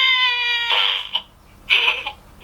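A high, electronic cat meow plays from a cheap 10-baht toy, a tonal wail followed by two shorter mewing bursts, close and fairly loud.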